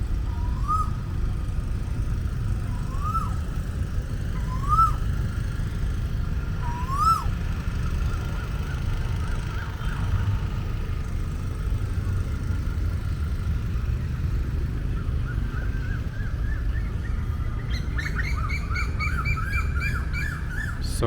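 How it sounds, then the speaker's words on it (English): Birds call in Chatuchak Park in Bangkok, with a few rising calls repeated every couple of seconds over a low hum of city traffic, then a burst of rapid chirping near the end. "So many birds noise. They are talking to each other."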